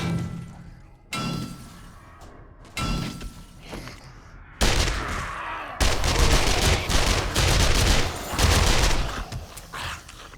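Sustained gunfire in the zombie survival game 7 Days to Die, starting as several separate loud bursts and building into a dense, continuous barrage that keeps going until the weapon runs dry, with sharp shattering impacts mixed in.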